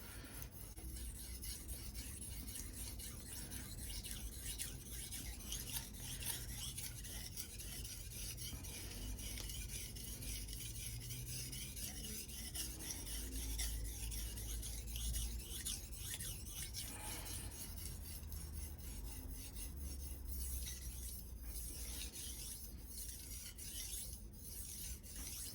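A ZDP-189 core steel Bunka knife is drawn over a Suehiro #1000/#6000 combo whetstone. The soft, gritty rasping strokes repeat steadily and quietly, close by.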